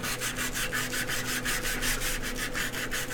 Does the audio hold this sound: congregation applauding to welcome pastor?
no